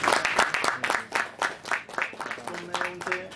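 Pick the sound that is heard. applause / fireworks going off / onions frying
applause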